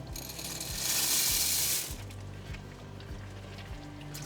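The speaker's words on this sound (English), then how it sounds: "I will be adding 350 grams of macaroni pasta" Dry macaroni poured into a pot of boiling water: a bright rattling, hissing rush for about a second, then quieter bubbling with soft steady clicks, close and moderately loud.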